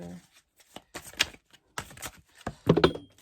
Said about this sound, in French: Excusez-moi, une carte qui est tombée.